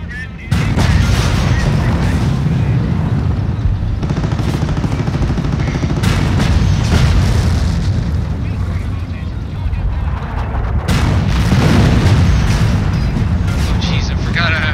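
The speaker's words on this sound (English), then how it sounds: "Oh jeez, I forgot I deployed artillery." An artillery barrage in a Company of Heroes: Opposing Fronts British campaign battle, with heavy booming shell impacts and rolling explosions repeating in waves, loud and continuous, mixed with gunfire and some voice.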